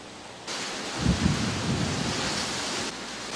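Strong typhoon wind from Typhoon Lando sweeping through Iba, Zambales, a steady broadband roar with a couple of heavier gusts, rain-like hiss throughout, no voices.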